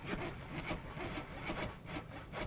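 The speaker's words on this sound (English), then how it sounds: "You can hear it sawing if I ever shut up." A saw bench in a video game cuts logs into planks, a steady rasping wood-sawing sound repeating in strokes at moderate volume with no talking.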